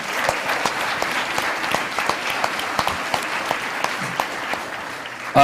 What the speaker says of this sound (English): Let's give a big round of applause for our Hawks up here.